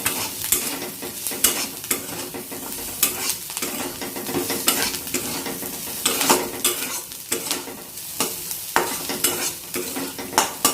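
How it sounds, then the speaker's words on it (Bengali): A spice mixture with chilli powder and salt fries in a pan, a continuous sizzle broken by repeated scraping strokes of a spatula stirring it, close and fairly loud. "এটা একটু মিশিয়ে নিই এখন মশলাটা"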